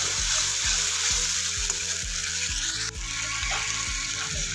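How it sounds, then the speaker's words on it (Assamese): Spices and paneer masala being stirred in a hot pan over a steady, loud sizzle of frying, with regular scraping strokes of a spoon repeating about once a second. "এইখিনি ভালদৰে লৰাই লম"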